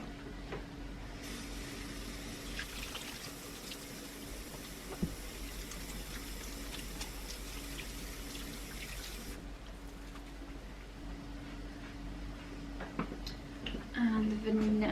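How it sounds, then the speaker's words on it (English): Hands being washed under a running kitchen tap while baking, a steady close stream of water with light splashing and a few clinks, lasting throughout, with a person talking briefly over it. "Please wash my hands."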